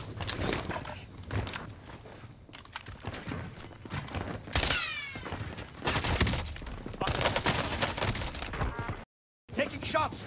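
Repeated bursts of gunfire in Call of Duty Warzone on Rebirth Island, an LC10 setup, with rapid shots and a whistling streak amid steady game background noise and a brief dropout near the end.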